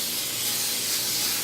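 Olive oil cooking spray hisses in one short continuous burst as a 9 by 13 pan is greased, close and steady.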